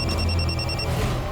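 A telephone rings with a short electronic trill that lasts under a second before fading into a dense, noisy indoor background.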